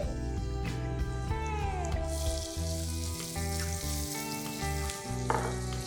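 Finely chopped onion frying in a pan with turmeric and coriander, a steady close sizzle running throughout with stirring clatter, under a loud harmonic tonal background.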